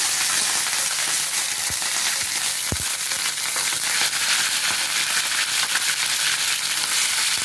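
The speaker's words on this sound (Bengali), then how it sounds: "তেলটা গরম হয়ে গেছে, গ্যাসটা কমিয়ে পাতাগুলো আমি আস্তে আস্তে ছেড়ে দেবো। খুব আওয়াজ হবে কাঁচা পাতা" Leaf-wrapped rohu fish paturi sizzles loudly in hot oil, a steady, intense crackling fry with a few sharp pops, close and continuous with no talking.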